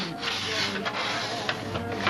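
A wooden wing spar edge for a model aircraft is rubbed back and forth across a sanding table, making a soft, continuous rasping scrape with slight stroke-to-stroke swells, close and fairly quiet.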